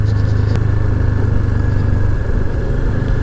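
A motorcycle ridden on a rural road toward Parbat in Nepal gives off a steady, close engine drone with a sharp click near the start and no talk.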